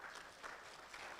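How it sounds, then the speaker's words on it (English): Applause from a seminar audience fills the short stretch as a dense, steady patter of many hands, moderately loud and continuous with no voices standing out. "Big round of applause for my assistant"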